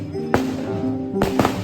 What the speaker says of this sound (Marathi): तवसरींची फटाक्यांची आतषबाजी सुरू होती.